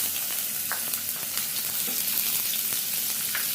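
Chopped onions frying in hot oil in a kadhai, a dense, loud and continuous sizzle with scattered crackles and occasional soft stirring taps, no voices.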